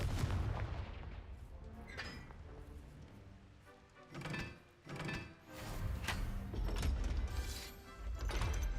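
Fire spell explosions in the Hogwarts Legacy video game boom in a busy series of heavy blasts and impacts, with bursts around the middle and toward the end over dense game combat noise.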